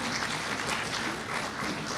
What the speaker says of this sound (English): A huge applause for him